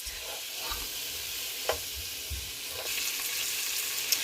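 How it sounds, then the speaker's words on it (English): Sausages and onions fry in a pan and are tossed, giving a steady low sizzle with a few soft scraping and shuffling bumps as they move; no talking. "As your sausages and onions cook, you want to give this a nice toss"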